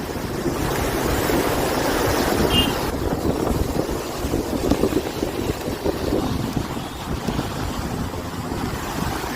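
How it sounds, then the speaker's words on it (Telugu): Strong storm wind gusts across the Visakhapatnam seashore near Tenneti Park, buffeting the microphone with loud, continuous rumbling noise over the churning roar of rough surf. "గాలి కూడా బాగా వీస్తుంది"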